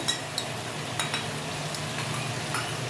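Potato, pointed gourd and prawn curry with yogurt cooks in a pan with a soft, steady sizzle, broken by several light clicks and scrapes of stirring, fairly quiet and without talk.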